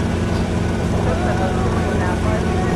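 A police helicopter hovers in GTA Vice City, its dense, steady rotor and engine drone filling the scene at constant loudness, with no breaks or shifts.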